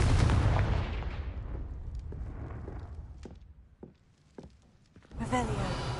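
The Confringo spell in Hogwarts Legacy goes off as a loud, booming blast that rumbles and fades, followed by a few lighter impacts and a second burst of game noise.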